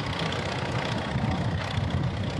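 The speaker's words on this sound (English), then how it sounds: "Here's a 1946 Farmer Model H, owned by Kim and Kevin Carlin." A 1946 Farmer Model H antique tractor runs at a parade. Its engine gives a loud, steady, rough chugging rumble that carries without a break for the whole moment.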